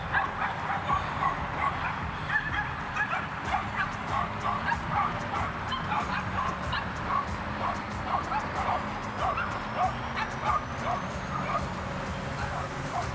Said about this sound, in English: We got some puppies over there